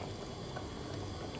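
A pot of Thai fish soup with phak tiu leaves keeps up a steady, low bubbling boil that stays even and close throughout, with no other sounds.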